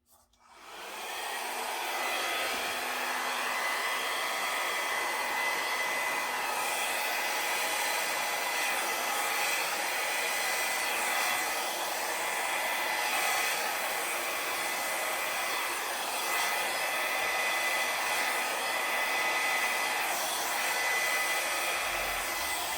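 A hair dryer blows steadily and loudly across an acrylic Dutch paint pour with silicone, switching on at the start and then holding a constant, close whoosh with no talk.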